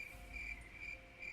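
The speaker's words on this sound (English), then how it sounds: "I could hear the crickets chirping." Crickets chirping in a forest late at night, with a constant high, shrill trill pulsing in regular bursts over quiet background hiss.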